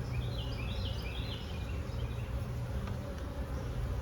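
Honey bees drone continuously around an open hive during an inspection of queenless splits, a dense, steady outdoor buzz that holds throughout, with no speech.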